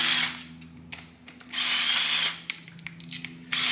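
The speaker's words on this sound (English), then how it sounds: "Snap on gun just to finish it off." A Snap-on impact gun rattles off clutch bolts on a motorcycle during a Rekluse auto clutch install, firing in several short bursts and one longer run, close and loud, with no talking.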